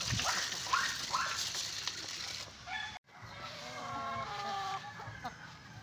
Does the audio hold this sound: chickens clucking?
yes